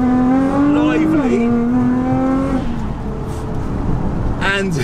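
A Nissan GT-R engine on the road, loud and close, its steady drone rising in pitch, dipping at a gear change, then climbing again with a fresh shift near the end.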